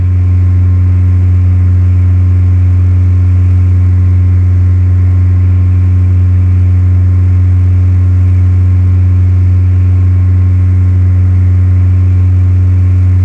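A single-engine aircraft engine runs steadily at full power during a climb in Flight Simulator 2004, giving a loud, constant drone with a strong low hum that holds without change throughout.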